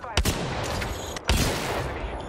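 Two sharp gunshots from a weapon in Apex Legends crack about a second apart, loud and close, with faint game noise between them.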